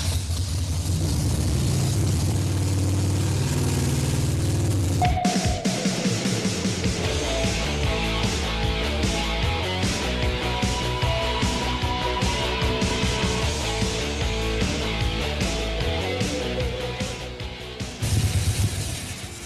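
A cold Harley-Davidson motorcycle engine cranks and fires up partway through, settling into a loud, lumpy, uneven idle close by, after a steady low engine hum.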